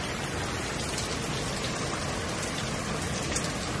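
Heavy rain pours down outside in Miami, a dense, steady hiss of drops drumming on surfaces without letup, fairly soft and unbroken with no voices.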